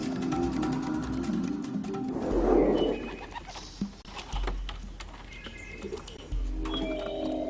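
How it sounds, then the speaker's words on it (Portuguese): Pigeons are released from a transport box in an open field. Soft cooing and bird calls mix with a burst of wing flapping and scattered rustling, close by and varied over several seconds. "Eu abro a caixa e eu solto os pombos."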